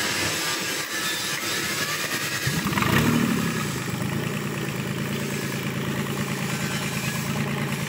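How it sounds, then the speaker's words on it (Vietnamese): A Kubota D850 tractor diesel engine, 20 hp, runs steadily after starting, with a loud, continuous close-up idle rumble, a brief surge around the catch, then an even chugging drone. "Máy nổ quá đỉnh luôn anh em."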